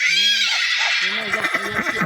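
A loud, close whinny from a mare, a long wavering neigh that trails off into shorter snorting and nickering sounds.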